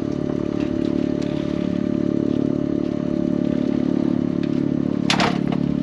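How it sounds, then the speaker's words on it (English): A steady, droning engine hum from a helicopter passing overhead fills the whole stretch, with a brief sharp clatter near the end, heard out at sea while hauling crab pots. "Sorry about the helicopter above, that's that noise you can hear."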